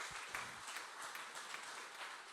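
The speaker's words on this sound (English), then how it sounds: "let's give a round of applause for those pledges as well" Faint, continuous applause from an audience at an update meeting, even and steady across the short stretch with no other sound standing out.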